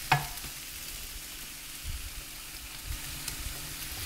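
Chorizo hits a hot frying pan already holding crisp fried potatoes, giving a quick sharp sizzle at the start that settles into a faint, steady, low frying hiss with a few soft crackles.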